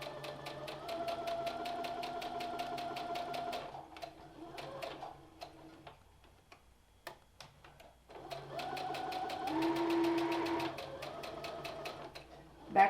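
A sewing machine stitches a curved quarter-inch seam on a fabric mask, whirring in two long bursts with a quiet pause between them, fairly close and with no talk over it.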